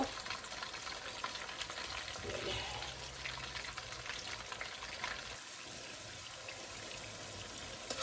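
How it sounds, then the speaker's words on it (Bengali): Steady, even sizzle of onions frying crisp in hot oil, continuous throughout with a faint stir or clink partway through; no voices. "এখানে আমি পেঁয়াজ ব্যারেস্তার মতো করে নিতেছি"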